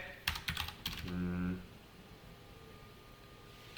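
Quick clacking keystrokes on a computer keyboard as code is typed for a JavaScript and jQuery tab menu, a short burst of taps followed by a brief tonal hum, then quiet.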